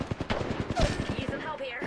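Rapid bursts of gunfire in the video game Apex Legends, a quick run of sharp, evenly spaced shots close up with game voice lines over the action.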